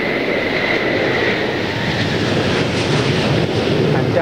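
A Concorde airliner lands at London Heathrow on its final landing, heard as a loud, continuous broadband roar with wind buffeting that stays steady throughout.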